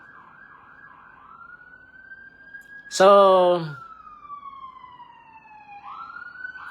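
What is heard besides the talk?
police siren passing outside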